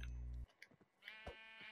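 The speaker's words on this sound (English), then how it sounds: "Sheep, I need you." Sheep in the Minecraft video game give a couple of short, faint bleats after a brief steady tone, quiet and close, with no talking.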